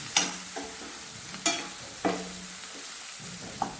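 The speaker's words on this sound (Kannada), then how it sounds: "ಈ ಥರ ಎಲ್ಲ ಸ್ವಲ್ಪ ತಿರುವಿ ಗ್ಯಾಸ್ ಬಂದ್ ಮಾಡಬೇಕು" Onion sagu being stirred in a pan on a gas stove, with a few separate scraping clinks of the spoon against the pan over a faint sizzle, close and fairly quiet.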